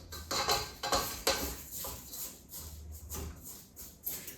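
A spatula scrapes the sides of a mixing bowl of cookie dough in repeated close strokes, each a soft rasping swipe with brief gaps between.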